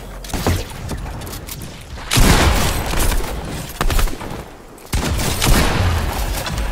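Sustained automatic fire from a drum gun in Fortnite, loud, close bursts of rapid shots in long strings with brief gaps between volleys, with no talking over it.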